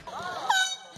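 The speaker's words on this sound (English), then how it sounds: "He just honked the horn" A vehicle horn honks briefly from a short distance, heard under and between casual talk during a day outdoors with a chicken.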